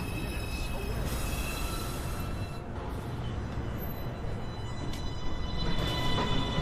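A downtown local 1 train on the New York City subway, a steady loud rumble of running cars with faint high squeals, continuous and close throughout.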